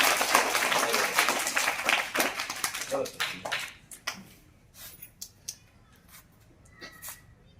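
A school audience gives loud applause, dense, bright clapping that fades into scattered individual claps. A voice speaks over the start.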